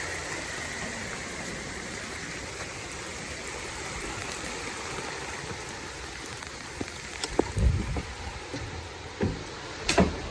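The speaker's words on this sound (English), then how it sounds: "It's raining." Steady rain falls outdoors as a continuous broadband hiss, with occasional louder drips and splatters close by, no voices.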